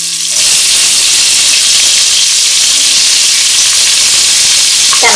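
Cut pieces of potato, ivy gourd, onion and okra dropped into hot oil for sambar, bursting into a loud, steady hiss of frying that fills the whole stretch with no talking.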